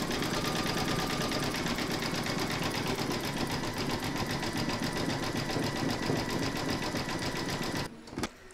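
An embroidery sewing machine stitches a round of an appliqué design in a steady, rapid mechanical whir and chatter, close and continuous, stopping abruptly near the end.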